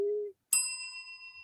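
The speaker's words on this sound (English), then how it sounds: "He loves that bell, man" A single small desk bell is struck once as a dad joke bell, a bright, close ding that rings on and fades, following a short tone.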